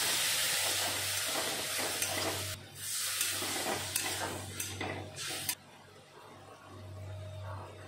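Onions frying in a pan with turmeric, coriander, cumin and dried chilli powder, stirred steadily: a continuous close sizzle with scraping spoon strokes and a low hum beneath, the sizzle dropping back partway through.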